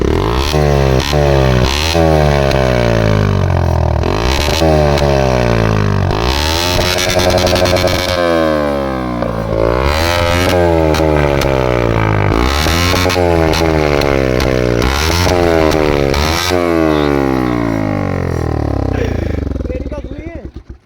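Bajaj NS motorcycle fitted with a modified Akrapovic exhaust, revved hard over and over in a close, loud series of rising and falling engine sweeps that fade out at the end.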